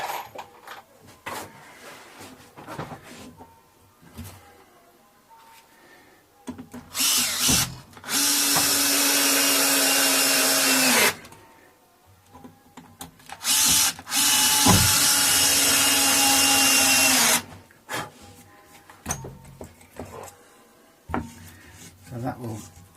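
A power drill drives long screws into the wood of a Squier Affinity Telecaster guitar in two long, loud whirring runs. Someone talks close by before, between and after them, along with handling clatter.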